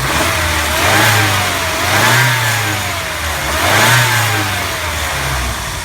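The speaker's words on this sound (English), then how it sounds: "This is how you would want to hear this car run." A car engine runs steadily nearby, its hum rising and falling in slow, gentle swells of revving about every couple of seconds.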